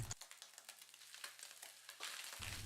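Garlic, onion, green pepper and tomatoes sizzle with beef in a hot pan, a faint crackling fry with small pops and stirring scrapes, quiet and close with no voices.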